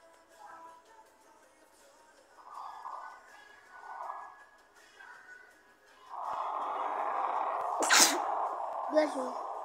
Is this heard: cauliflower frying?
no